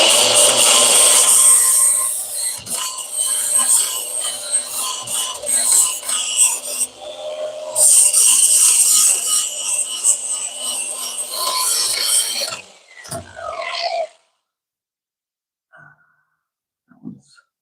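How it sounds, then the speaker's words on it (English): Metal being ground off a car's anti-roll bar during a welding repair: a loud, steady abrasive rasp for about twelve seconds with brief dips, then it cuts off, followed by near silence and a couple of faint knocks. "Let's grind this off real quick."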